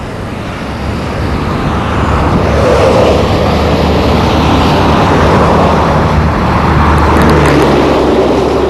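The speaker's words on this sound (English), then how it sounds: "a truck hauling the crop" A truck hauling a citrus crop along a road in a citrus and phosphate region, heard as a loud, continuous engine and road rumble that swells slightly as it passes.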